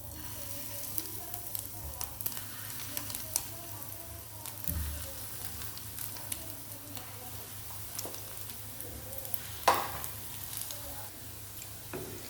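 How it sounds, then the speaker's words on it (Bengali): Soft, steady sizzling of fish roe fritters frying in mustard oil in a wok, with scattered light taps and clinks of a utensil, fairly quiet throughout. "এবার আমি ছোট ছোট করে বড়ার আকারে কড়াইতে দিয়ে দেবো"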